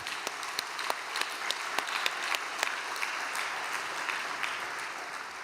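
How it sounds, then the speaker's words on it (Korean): A gathering welcomes trainees of a prayer retreat with applause, steady massed clapping at moderate level, a few crisp individual claps popping out above the dense patter, lasting several seconds without talk. "여러분 환영의 박수 부탁드립니다."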